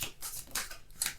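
Tarot cards being shuffled by hand, with several quick papery riffles and slides in short bursts, close and fairly soft, and no voice.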